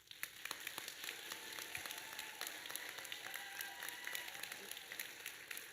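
A crowd applauds at a middle school graduation ceremony, dense steady clapping that carries on through the whole stretch, with scattered sharper claps and a faint murmur of voices in the hall.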